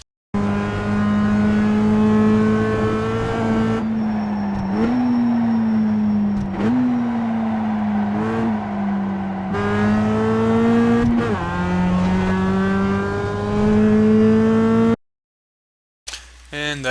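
A Mazda MX-5 race car in iRacing laps Summit Point Jefferson, its engine droning loudly and rising in pitch through the gears with brief dips at shifts and braking, heard from the cockpit before cutting off abruptly.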